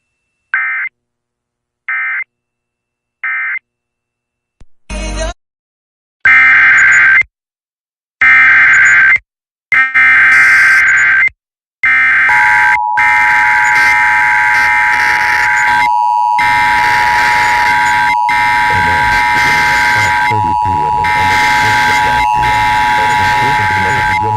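Emergency Alert System weekly test tones from a live TV feed: short repeated data bursts, then loud sustained alert tones, with a steady attention tone that runs under a synthesized voice reading the message.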